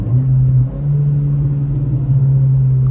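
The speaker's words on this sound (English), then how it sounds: "So we're coming up to a stop here. Give you guys a couple downshifts." A 2023 Acura Integra fitted with a Remark exhaust rumbles steadily from inside the cabin as it slows for a stop, its low engine drone wavering slightly through a couple of downshifts.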